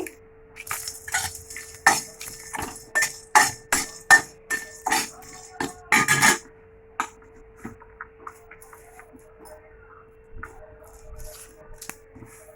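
Whole spices, star anise, black pepper and coriander seeds dry-roasting in a pan for Kolhapuri misal, heard as a quick run of sharp rattling clinks and taps that stops midway, leaving a quiet hum.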